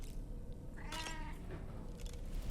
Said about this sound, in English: The fact that you can't pet the tar cat is... it's fucked up.